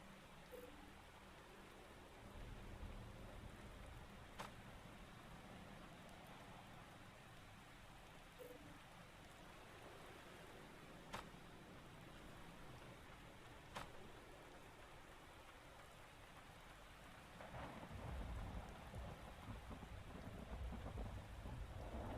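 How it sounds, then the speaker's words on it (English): Quiet, continuous rain with a few faint distant rumbles of thunder in the video game Dysterra, swelling louder near the end. "it's raining"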